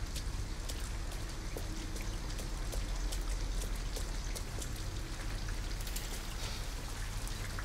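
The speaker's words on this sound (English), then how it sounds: "At least we'd be out of the rain." Rain falls steadily in the video game Detroit: Become Human outside an abandoned house, a dense, even patter of drops on surfaces with scattered sharper splashes, moderately loud and alone.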